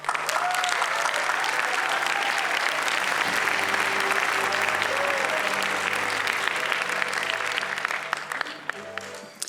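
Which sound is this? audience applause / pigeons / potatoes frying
audience applause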